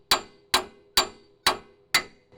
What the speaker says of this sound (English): we can actually hammer it out carefully